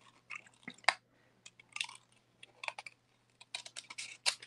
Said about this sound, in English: keep turning my paper while I kind of hold the scissors at the same angle